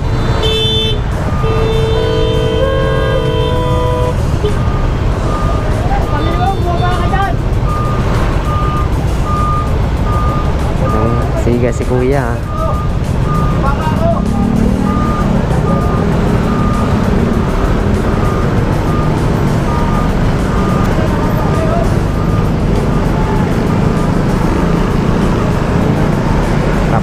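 A truck in congested road traffic sounds repeated reversing beeps and short horn toots over a constant rumble of nearby engines, with brief speech partway through.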